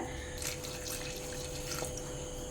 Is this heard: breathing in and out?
no